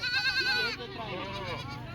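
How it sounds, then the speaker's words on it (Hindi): Goats on a farm bleat in a wavering, drawn-out cry, then a second, lower bleat follows, while someone speaks nearby. "12 बकरियाँ और बच्चे 18 हैं"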